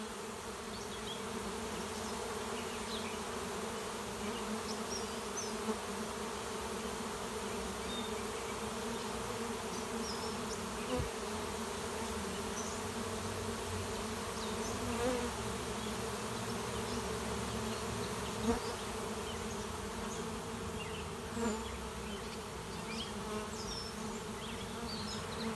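Steady, dense buzzing of honey bees around a late-season hive as they fly in carrying pollen, a continuous drone with no voices.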